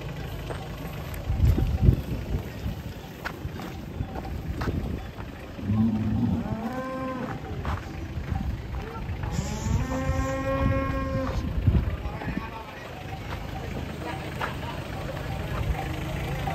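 Large Pegon cattle low repeatedly, with deep drawn-out moos rising over a busy unloading scene. An engine idles underneath and people talk in the background.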